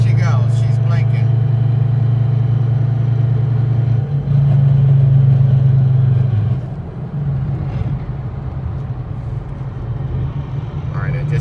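A car engine runs at a steady drone after several decelerations during a crankshaft relearn, its pitch settling to a lower idle partway through, with a few faint clicks and rustles in the cabin.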